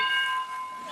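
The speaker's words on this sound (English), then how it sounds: "That's a bell." A bell rings with a clear sustained metallic tone and shimmering overtones, fading gently over a second with no voices.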